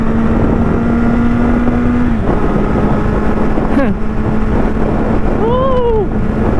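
Kawasaki Z800 motorcycle being ridden, a steady close engine drone over heavy wind rush, the pitch dipping and shifting as the rider eases off and changes speed, with a voice talking over it.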